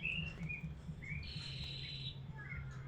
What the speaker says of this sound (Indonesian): biarkan burung aja yang berbicara ya